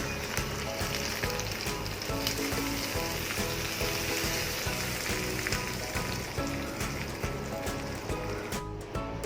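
Cumin, mustard seeds and a green chili sizzle in hot oil as a tempering for Amritsari pindi chole, a loud, steady crackling fry that runs continuously without a break and with no voices.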